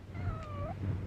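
A live cat given as a wedding present lets out a single short, fairly quiet meow with a rising and falling pitch.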